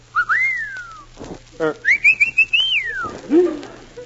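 A person whistles two long, sliding notes, rising then falling, with short bursts of sound between them and a low steady hum underneath.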